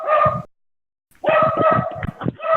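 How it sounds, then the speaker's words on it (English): A dog barks loudly and close by in repeated bursts, with a brief pause before a fast run of barks. "I can't hear you over the fucking dog"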